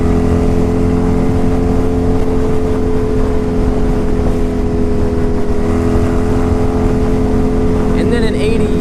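A 1987 Honda Super Magna motorcycle engine runs steadily and loudly close by, its deep idle hum holding throughout with a brief rev near the end.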